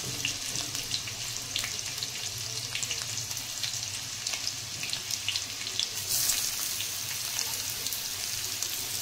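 Onion frying in a pan with roasted green chilies for green moong usal, a dense, continuous hiss of sizzling oil, steady and close, with a brief swell near the end.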